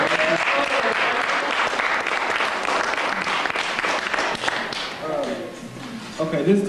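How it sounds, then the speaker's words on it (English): An audience gives a round of applause at a writers' reading event, dense clapping that fills the room and tapers slightly toward the end. "Give him another round of applause"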